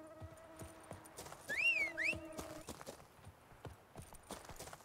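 Hooves of Roach, the horse in The Witcher 3: Blood and Wine, clop in a steady, close, crisp rhythm, broken briefly by a high whinny-like call and set against a sustained tonal hum.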